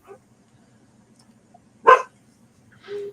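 Small dog giving a single sharp, close bark, then a shorter yelp-like sound a second later, against an otherwise quiet indoor background.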